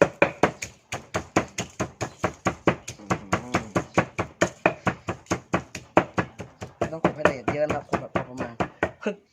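Som tam papaya salad pounded in a mortar on a table, about forty steady, evenly spaced heavy thuds close by, with a voice speaking briefly between the strokes.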